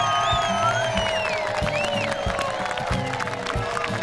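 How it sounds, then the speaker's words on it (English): Cowra audience at a Bush Slam poetry contest applauding and cheering for Carol Heuchan, a steady dense wash of clapping with scattered whoops throughout, loud and close. "Now those who think Carol Heuchan won, applaud now"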